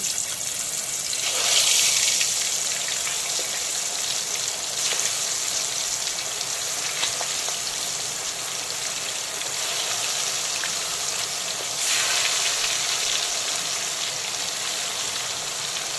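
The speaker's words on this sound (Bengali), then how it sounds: "এখন লবণ হলুদ আর কাঁচা সর্ষের তেল মাখানো শঙ্কর মাছের পিসগুলোকে আমি তেলের মধ্যে দিয়ে দেব" Pieces of stingray fish coated in salt, turmeric and raw mustard oil sizzle steadily in smoking-hot mustard oil, a continuous hiss with brief louder bursts as the pieces go in.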